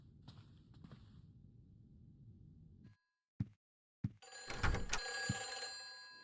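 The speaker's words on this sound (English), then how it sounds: "Soon thereafter, Henry will hear his phone ring." In the Silent Hill 4 video game an apartment phone starts ringing after a low ambient drone and a couple of sharp knocks, the bell rising loud and harsh in the last seconds.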